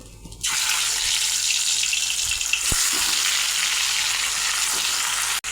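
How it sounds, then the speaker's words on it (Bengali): Fish frying in hot mustard oil in a pan, a steady loud hiss and sizzle that starts suddenly and holds without a break, close by, with no talking. "এখানে মাছ ভাজা হতে থাক, ততক্ষণ আমি মশলাটা বেটে নিই।"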